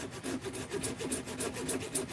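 A hand saw cuts through a wooden pen blank along a marked line, about eight quick rasping strokes in a steady rhythm, close and fairly quiet.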